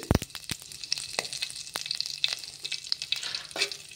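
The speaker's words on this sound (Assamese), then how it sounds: "এতিয়া ফ্ৰাই কৰি ল'ম" Panch phoron and dry red chilies crackle and sizzle in a little oil. Sharp spatula knocks open the stretch, followed by a steady spitting fry with small pops, close and alone.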